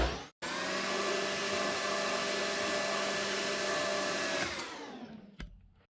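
A lathe or similar machine tool cuts a chamfer on a steel part for a 3-inch machinist clamp. It gives a steady, loud, continuous whirring grind for about four seconds after a brief start, then winds down and stops.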